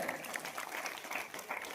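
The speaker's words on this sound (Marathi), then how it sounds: "जोरदार टाळ्या वाजवायच्या." Audience applause at a Marathi event honouring a woman declared a national warrior heroine for teaching martial arts, a steady dense wash of clapping throughout without clear voices.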